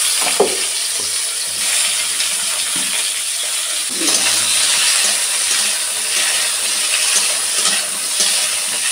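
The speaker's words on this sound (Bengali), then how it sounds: "সে তাহলে পটল ভাজা হচ্ছে সঙ্গে" Pointed gourd (potol) pieces rubbed with salt and turmeric frying in a pan: a steady, bright hiss of oil sizzling throughout, with a few soft stirring clinks and rustles.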